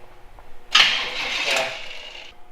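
A Jeep Wrangler YJ engine cranks over in a strained attempt to start, a loud grinding burst that begins abruptly and runs for about a second and a half before tapering off, with no voices.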